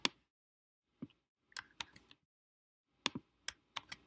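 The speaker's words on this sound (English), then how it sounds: "I'll type it again for good form." Keystrokes on a computer keyboard come in sparse, uneven clicks, a few single taps and then a quick burst of several near together, close and clear in a quiet room.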